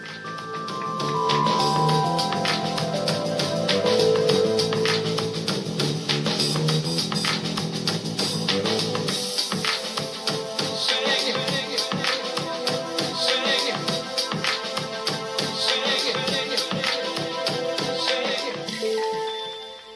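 A music track plays loudly through LaCie USB desktop speakers with strong bass, a full band mix that shifts midway into a sparser, percussive section, continuous with no talking.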